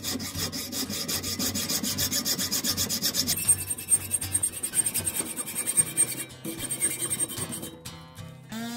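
An old machete blade is sanded while being reworked into a naval cutlass. Close, steady abrasive rasping comes in quick rhythmic strokes, with a brief pause and shift partway through, and no voices.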